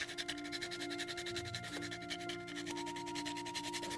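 Fresh whole nutmeg rubbed against a grater into batter, a fast, even rasping scrape heard close and continuous with no talk.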